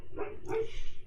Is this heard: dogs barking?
yes